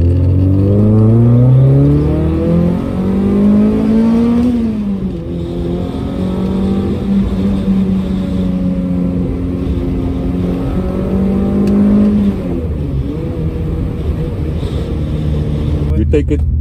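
A Toyota 3S-GE engine with dual beams and a dual-plenum intake, fitted in a Corolla, revs loudly and close up, its pitch climbing, dropping back and rising again in long sustained pulls.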